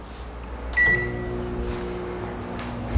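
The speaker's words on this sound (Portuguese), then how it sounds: "Eu vou colocar no meu micro-ondas, já tá ali dentro." A microwave oven runs to boil water for two minutes, its steady low hum and rattle starting with a brief clunk and whir, close and alone with no talk.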